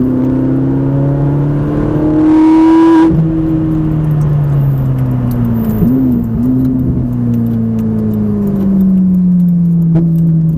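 A Ferrari 458 accelerating on the Mettet race circuit, heard from inside the car. A loud, continuous engine tone climbs in pitch, drops briefly at a gear change, then builds again under throttle.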